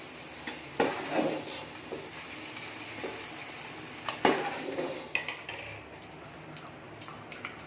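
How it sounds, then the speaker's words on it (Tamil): Paneer frying until golden in a pan, a soft steady sizzle with intermittent clinks and scrapes of a utensil against the pan, close and fairly quiet, no talking. "இந்தமாரி பொன்னிறமாக வறுத்து எடுத்துக்கலாம்"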